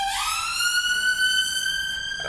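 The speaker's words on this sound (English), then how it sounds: "So I live near the street and that's an ambulance" An ambulance siren passing on a street outside a home, a loud continuous wail holding a steady pitch with rich harmonics, close and alone without talk.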